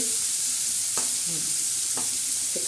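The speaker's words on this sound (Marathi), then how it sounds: "असं चांगला तडका द्यायचा कांदा आणि टमाटे थोडे लालसर होऊन द्यायचे" Onion and tomato frying in a tadka for village-style moong dal give a steady sizzle, with two sharp spoon taps against the pan and brief stirring scrapes.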